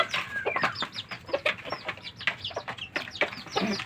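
A bantam chicken clucks close by in a rapid, uneven run of short, sharp notes, with a few higher squawks mixed in and no talking.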